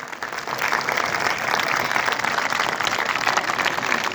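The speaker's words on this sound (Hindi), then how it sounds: "उनके लिए एक बार मैं चाहूंगा कि जोरदार तालियां बजाएं" A crowd at a Republic Day ceremony applauds loudly, a dense, steady wash of clapping that swells within the first half second and holds without pause, with no talk.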